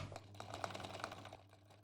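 A sewing machine stitches through a fabric make-up bag in a steady rapid patter, close and fairly quiet, running continuously with no voices.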